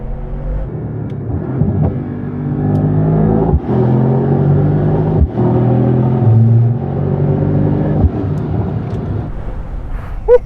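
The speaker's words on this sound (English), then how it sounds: "This is the 2025 Mercedes-AMG GT63" A 2025 Mercedes-AMG GT63 engine drones steadily while driving, a loud, close, continuous rumble with gear-shift dips and surges in revs, no talking over it.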